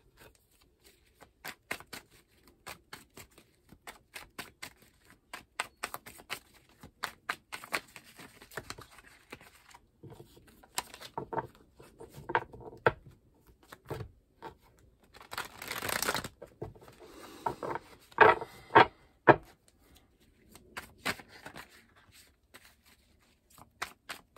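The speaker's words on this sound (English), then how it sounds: "we're going to get three cards for each with the cutting of the deck" A tarot deck is cut and shuffled by hand, producing a long run of quick papery card flicks, riffles and soft slaps in irregular bursts, close and fairly quiet, with a louder shuffling flurry midway and no speech.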